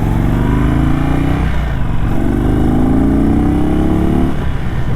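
A 2022 Indian Chief Bobber motorcycle rides through evening traffic, its loud engine rumbling steadily up close and rising in pitch as it accelerates and shifts, with no talking.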